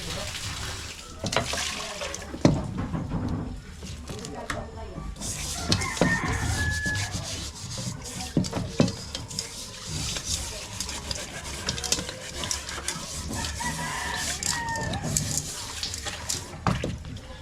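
Water runs and splashes while a pot is scrubbed and rinsed, with clattering and rubbing sounds; a rooster crows faintly in the background.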